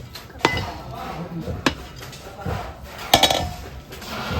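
A metal lid clanks onto a pot of mutton curry, with a few sharp clinks of utensils against the pot over a quiet kitchen background.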